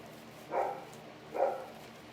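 A dog indoors gives two short, fairly faint barks about a second apart against quiet room tone.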